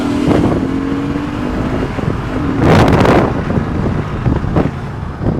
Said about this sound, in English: this is the completely stock exhaust as well, and it sounds this good